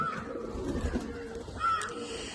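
Domestic pigeons from a long-kept family flock coo softly in a few low, rolling phrases, fairly close, over light background noise.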